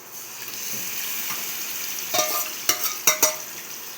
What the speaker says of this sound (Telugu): ముందుగా ఇది మనం కలిపి పెట్టుకున్న ఈ చికెన్ మిశ్రమాన్ని ఈ పోపులో వేసేసుకుందాం